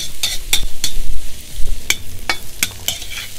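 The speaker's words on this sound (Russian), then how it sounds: "Через 3 минутки отправляем туда же обжариваться морковь. И обжариваем в течение 5 минут." Carrots fry in a kazan, with a steady close sizzle of hot oil broken by sharp scrapes and clacks of a spatula stirring at irregular intervals; no voices.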